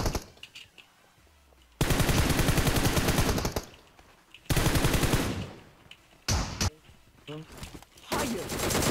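Sustained bursts of automatic gunfire from a video game shootout, loud and close, arriving in several long volleys with short quieter gaps between them.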